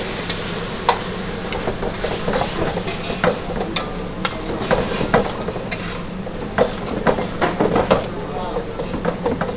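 Spaghetti all'assassina sizzles and crackles in a pan with garlic and chili while a utensil stirs it, giving a steady hiss broken by frequent sharp scraping clicks, and a voice speaks over it.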